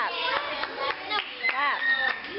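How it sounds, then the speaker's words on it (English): A group of children claps hands in a classroom lesson on loud and quiet sounds, a few scattered sharp claps among excited children's voices and chatter close by. "why don't we clap? Let's clap."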